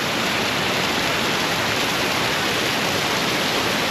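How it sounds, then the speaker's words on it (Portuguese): Water rushes down a steep bank at Poço Negro in Viana do Castelo, Portugal, a loud, steady, close roar of broadband noise with no pauses or voices. "Aqui tem uma ribanceira, ó, e tá saindo muita água aqui."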